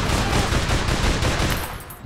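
Dense, continuous assault rifle fire from the shooter game APB Reloaded, a loud rapid burst of shots that fills the whole span and tapers off slightly at the end.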